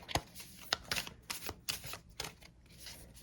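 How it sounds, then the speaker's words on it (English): A deck of playing cards being shuffled for a solitaire card game, close and quiet: a run of quick riffling bursts in an uneven rhythm, with no talking. "So you shuffle up your deck."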